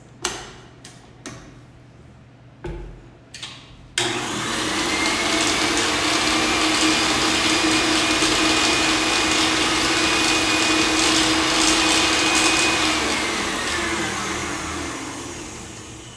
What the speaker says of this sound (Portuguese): E eu vou bater só mais um pouquinho, só para pegar essas laterais que não tinham pego